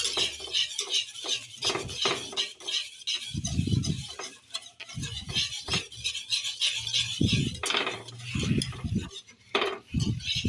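A spoon stirs chocolate glaze with vanilla essence in a bowl, giving close, irregular scraping and soft clinking strokes with short pauses between them.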